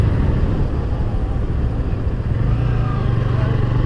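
A Bajaj Pulsar N160 motorcycle rides over a rough village road, its engine giving a steady, close drone with continuous road and wind rumble.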